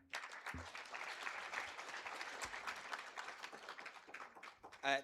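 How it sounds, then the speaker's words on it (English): Audience applause for a speaker at the official launch of a health integration summit, a steady dense clapping from a seated crowd lasting about five seconds at moderate distance, with no talk over it. "Let's applaud her."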